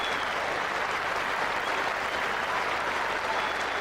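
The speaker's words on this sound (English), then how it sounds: "Standing ovation from this crowd." A packed cricket crowd at Trent Bridge gives a standing ovation, a steady wall of loud clapping that holds without a break across the short stretch.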